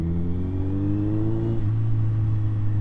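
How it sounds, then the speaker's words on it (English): A motorcycle descending a mountain road in second gear, its exhaust burbling on the overrun with a steady low rumble and a pitch that dips partway through, close and continuous with no talk. "the bike is burbling away on the overrun here"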